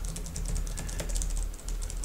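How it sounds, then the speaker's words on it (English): Steady rapid typing on a computer keyboard held close to a budget external microphone feeding a GoPro Hero 9 Black, crisp clicking keystrokes in a continuous patter over a low background hum. "I'm currently doing typing close to the microphone."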